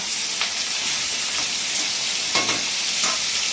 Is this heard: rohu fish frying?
yes